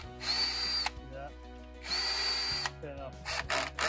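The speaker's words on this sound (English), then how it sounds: "So I got my VIX bit here and I pre-drill my holes." A power drill with a Vix bit pre-drills screw holes for a hinge install, whirring in two sustained bursts, high-pitched motor whine rising and cutting off, with brief clicks and handling noises between.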